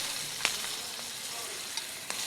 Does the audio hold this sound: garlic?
yes